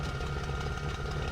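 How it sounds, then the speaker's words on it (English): A Bf-109F fighter engine running in the flight sim IL-2 Sturmovik (2001), a steady, close, rough idling drone that holds even throughout with no voices. "let's instruct my Schwarm to start their engine as well"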